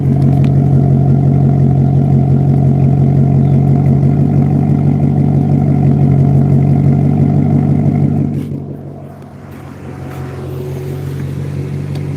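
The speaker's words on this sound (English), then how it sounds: "And you can hear the exhaust really quick." A car's exhaust drones loudly at a steady rev, a close, even rumble that drops off sharply near the end and then settles back to a lower idle.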